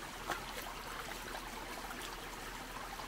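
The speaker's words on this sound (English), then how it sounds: "This is the lowest weir we have." Low creek weir with water spilling steadily over it, a continuous broadband rush and trickle at moderate distance, fairly even throughout with no voices.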